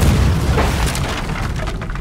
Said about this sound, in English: Fire at will when you're ready at the small ship.